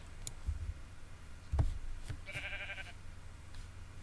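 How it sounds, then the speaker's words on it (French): A sheep bleating in Minecraft, one short wavering bleat in the middle against faint game background noise, with a few soft clicks and thumps around it. "Il est passé où le mouton? Pourquoi je l'entends et je le vois pas?"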